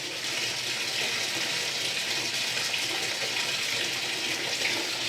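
Hot water runs steadily from a tap onto pants being washed with dish soap, a constant close gushing stream throughout with no voices.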